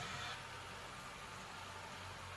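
The pulling tractor called Loud and Light idles at a Mid South truck and tractor pull in Ardmore, Tennessee, a continuous rough rumble buried in dense, loud outdoor noise, with no talk on top.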